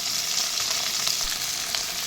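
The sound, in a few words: onion and curry leaves frying in oil in a pan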